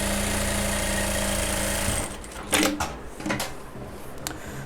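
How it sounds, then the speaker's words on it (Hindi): An Usha industrial sewing machine set to stitch length 3, running with a steady loud motor whir that cuts off about two seconds in, followed by a few brief clicks and knocks. "3 नंबर की स्टिचिंग मैं आपको करके बताता हूँ।"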